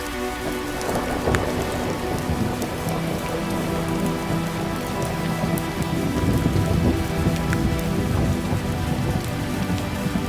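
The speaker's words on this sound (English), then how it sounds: "The rain sings a lullaby, and thunder whispers in the distance." Gentle rain falling steadily on surfaces, a dense even patter that fills the whole stretch, with a low rumble of soft distant thunder swelling underneath at times, and no voices.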